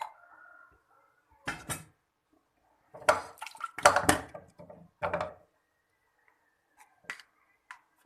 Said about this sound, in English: I am adding water.